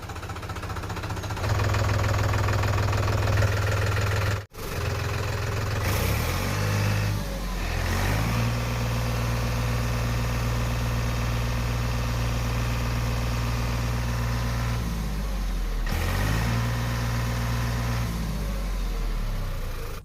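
A New Holland Excel tractor engine runs steadily at idle in a muddy spot outside a garage, a close, continuous low diesel rumble with a brief dropout and a couple of shifts in engine note.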